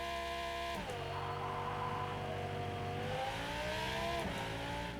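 Race car engine in the Rennsport racing game revving hard and continuously with traction control turned down, the pitch climbing and dipping through gear changes, loud and steady throughout with no talk.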